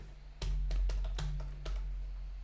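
Several quick keystrokes on a computer keyboard, about five taps spread across two seconds over a low steady hum, close and clear with no talking.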